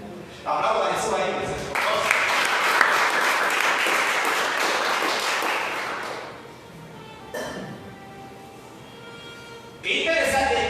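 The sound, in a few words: congregation applause in church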